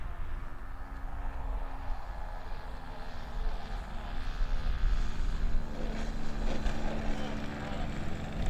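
A Kadet Senior radio-controlled model airplane engine droning steadily as it comes in to land, a continuous buzzing hum under wind and outdoor noise, with voices faintly present.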